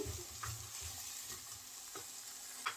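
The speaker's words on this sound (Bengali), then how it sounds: "ফুলকপি দিয়ে আমি আরও এক মিনিট ভেজে নিয়েছি" Cauliflower frying in a pan while making egg and vegetable noodle soup, a soft steady sizzle with faint stirring scrapes and a few light clicks, no voices.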